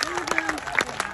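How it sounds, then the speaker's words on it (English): Applause and clapping from the Devon supporters at the close of the St John's Trophy 2021 bowls final, a moderate, steady patter of hands with crowd murmur and voices mixed in throughout. "Loud applause from the Devon contingent."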